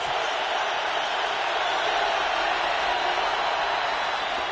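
A stadium crowd roars steadily at a Giants vs Steelers NFL game, a dense, continuous wall of cheering that neither swells nor fades, heard alone with no distinct voices.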